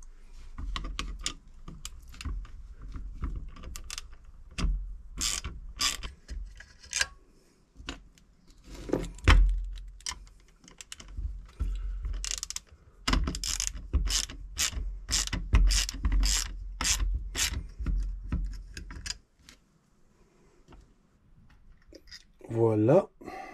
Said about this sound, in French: pour défaire ces trois vis, nous sommes en 1/4 de pouce